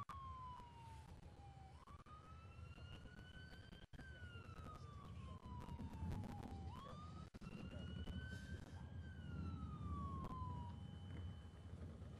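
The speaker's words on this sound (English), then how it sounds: "Here comes a couple of ambulances down the street now." A couple of ambulances pass down a street in Joplin after an EF5 tornado. Their sirens wail in long rising and falling sweeps that repeat over a steady background rumble, fairly close and loud throughout.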